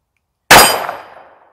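A .38 Special revolver fired double action at a shooting range gives one sharp, loud report that rings out and fades over about a second.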